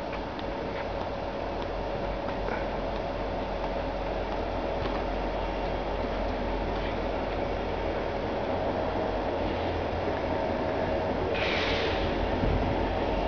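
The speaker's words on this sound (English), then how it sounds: "with a train going by." A train rumbles past Shilshole Bay Marina on a rainy day, heard from inside a boat, a continuous low roar with faint rhythmic clicks of wheels on the track.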